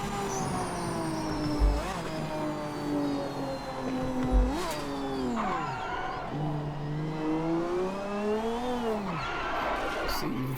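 Race car engine in the game Project Motor Racing, heard near and steady as it revs up and drops through gear changes, with pitch sweeping up and falling several times and a couple of brief thumps.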